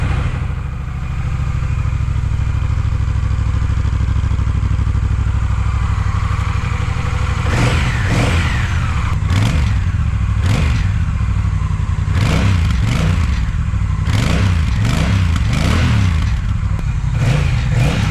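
A Honda Rebel 1100 motorcycle idles with a loud, steady rumble, then its fuel-injected engine is blipped in a series of sharp revs, close and punchy, with rain audible in the background.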